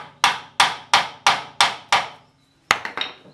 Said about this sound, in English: if you get a hammer, they'll just tap loose